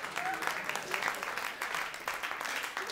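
Audience clapping at a cabaret show comes in a short, moderately loud burst of scattered hand claps from a seated crowd, thinning rather than building.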